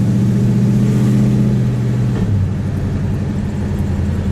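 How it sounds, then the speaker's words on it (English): A 1958 Plymouth Belvedere V8 with dual exhaust driving along, a loud, close, steady low engine drone that shifts pitch partway through as the transmission changes gear, no talking. "the dual exhaust gives it the right sound for the car for the movie"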